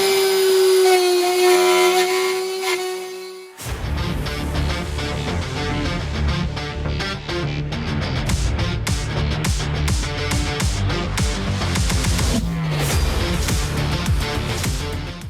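A CNC machine carves a base from a wooden board: after a brief tonal whine, a loud, close cutting roar starts abruptly and continues with gritty, rapidly pulsing chatter as the bit moves through the wood.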